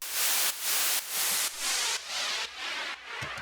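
A noisy synth patch with a chorus effect, as used in indie dance production, pulses in seven even, rhythmic bursts of bright hiss, each gated off sharply between hits.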